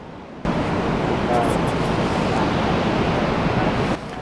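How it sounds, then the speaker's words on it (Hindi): Steady, loud rushing of the Saraswati river pouring over rocks at Mana village in high Himalayan hills, a dense continuous roar that swells in abruptly and holds, with no talking. "तो ये वाली आवाज़ आप जो सुन पा रहे हैं ये है सरस्वती नदी के जल की।"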